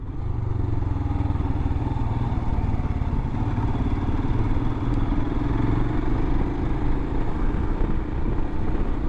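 A 2021 Royal Enfield Himalayan motorcycle rides on the street, its single-cylinder engine a loud, steady throbbing drone with rumbling wind and road noise throughout and no talking.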